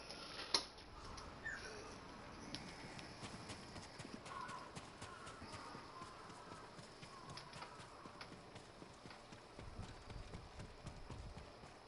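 Horse hooves clip-clopping steadily in the video game Ghost of Tsushima, a faint continuous trotting rhythm with soft game ambience.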